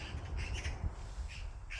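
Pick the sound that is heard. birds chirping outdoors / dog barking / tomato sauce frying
birds chirping outdoors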